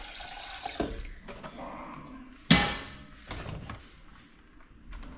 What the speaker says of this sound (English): Splash of water.